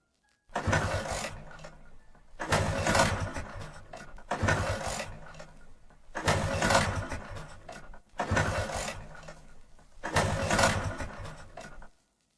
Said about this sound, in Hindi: बार बार किक मारने के बाद भी स्कूटर स्टार्ट नहीं हो रहा था।